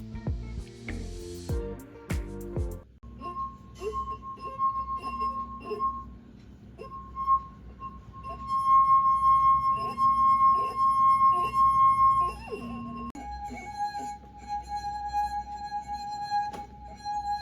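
Clear, sustained ringing tones from wine glasses holding different amounts of water, one pure pitch humming for several seconds, then shifting to a different pitch, with a few soft clinks at the start.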